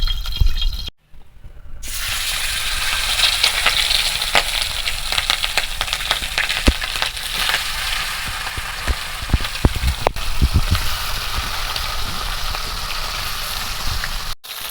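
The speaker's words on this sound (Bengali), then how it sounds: "তেলটা একটু ভালো করে গরম করে নেব দিয়ে আমি এই চিকেনগুলো ভাজবো" Chicken pieces frying in hot white oil make a loud, steady sizzle with scattered sharp crackles and pops. It runs almost without pause after a brief drop near the start, and no one speaks.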